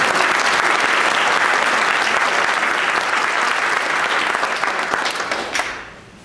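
Loud, sustained applause from the audience at a city's State of the City address, a dense steady wash of clapping that thins and fades out over the last second.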